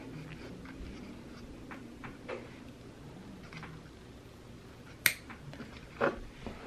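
Echeveria Lola succulent stem being cut, a quiet scene of faint ticks and soft handling noises capped by one sharp snip and a smaller click shortly after.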